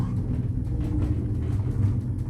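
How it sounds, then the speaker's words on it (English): An Eastern hydraulic elevator's motor in a vintage motel lift runs with a steady, low, continuous rumble, close and unbroken throughout. "All right, let's listen to the motor."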